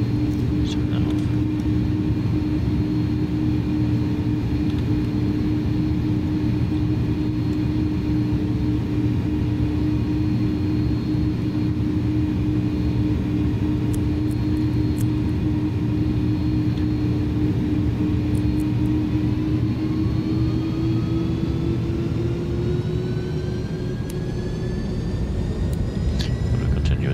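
Twin engines of an Airbus A310 in Microsoft Flight Simulator drone in a loud continuous hum with a steady tonal whine that climbs in pitch as they spool up near the end, with a voice talking over it.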